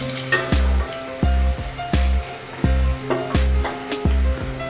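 Onions frying until brown for a spicy goat head curry, a loud sizzle interrupted by repeated rhythmic stirring strokes, roughly once a second, with no one talking.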